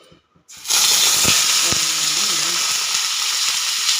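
Green chillies drop into hot ghee in a pan for a vegetable pulao and sizzle loudly and steadily up close after a quiet start, with a faint voice and a light stirring sound beneath.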